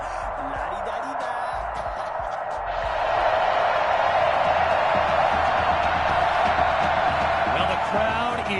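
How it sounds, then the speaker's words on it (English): A stadium crowd in an American football video game roars in a continuous wash, starting quieter and swelling louder about a third of the way through, with talk heard in the earlier part. "the crowd is loud and on its feet as Alan Myers gets things started"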